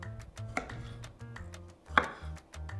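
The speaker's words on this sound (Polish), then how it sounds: "Czas na pomidorki, też na takie ósemki je kroję." A knife cuts tomatoes into wedges on a board in a home kitchen while guacamole is being made, giving a steady series of soft, close chops with one sharper, louder knock partway through.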